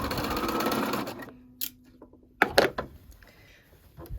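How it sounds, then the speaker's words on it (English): A sewing machine runs a steady, close whirring stitch as a sleeve is sewn to a wrap dress, then stops, followed by a few clicks and knocks as the fabric is handled. "We're going to stitch the sleeve to the dress with a 5/8 inch seam allowance"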